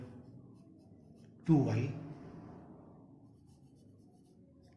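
Close hand-writing on paper during a maths lesson, a sudden scratchy stroke that trails off over a couple of seconds, heard under a quiet voice talking through the working.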